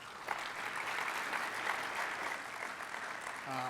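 Audience at a defense intelligence panel discussion applauding, a sustained even wash of many hands clapping, moderately loud, fading slightly toward the end.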